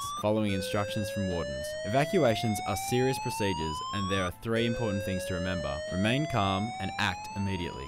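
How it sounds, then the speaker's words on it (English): A follow-up evacuation alarm in a University of Newcastle building sounds a loud tone that repeatedly sweeps upward, continuing steadily beneath someone talking throughout. "The follow-up alarm will sound like this"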